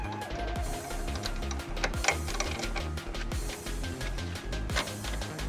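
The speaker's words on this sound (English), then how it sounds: "Now I'm using 11mm socket to remove the center rod bolts." An 11mm socket ratchet working on center rod bolts of a Mercedes-Benz, a steady run of rapid mechanical clicks and ratcheting close to the microphone, with a few sharper metallic knocks in a continuous busy texture.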